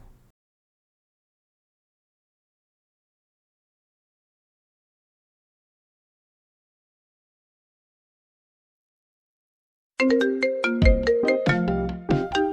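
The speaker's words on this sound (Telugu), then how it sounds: "ఈ టైంలో క్రిష్ కాల్ చేస్తున్నాడేంటి?" A phone ringtone sounds for an incoming call, a bright melodic ring starting abruptly after a long silence and continuing steadily, close and loud with no talk.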